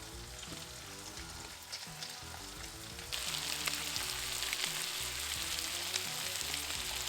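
Rainbow trout fillets dusted with blackened seasoning hit hot butter in a pan, the steady sizzle jumping sharply louder as they go in and then holding as a continuous, close frying hiss.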